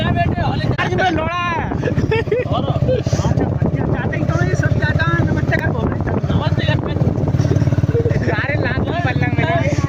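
A motorcycle rides along a paved road over a bridge, its engine droning loudly and continuously close to the microphone with wind buffeting, while people talk throughout.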